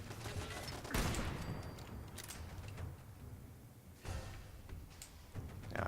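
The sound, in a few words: flaming bullet gunfire in the video game Fallout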